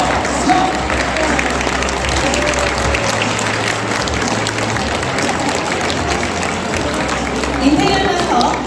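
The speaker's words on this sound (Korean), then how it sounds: "임페리얼 마스터 한 분 한 분을 큰 박수로 맞아주시기 바랍니다" A large audience at an Atomy promotion ceremony applauds as Imperial Masters are welcomed. Dense, continuous clapping from many hands fills the hall loudly and evenly, with a low steady hum underneath.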